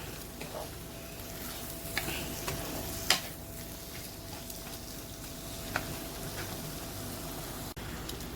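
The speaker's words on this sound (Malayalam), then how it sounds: "തക്കാളി ഒന്ന് വഴന്നതിന് ശേഷം നമുക്ക് ഇതിലോട്ട് പുളി പിഴിഞ്ഞത് ഒഴിച്ചു കൊടുക്കാം" Tomatoes fry in a pan for a traditional Kerala vaala fish curry, giving a continuous soft sizzle with a few scattered taps and scrapes from stirring.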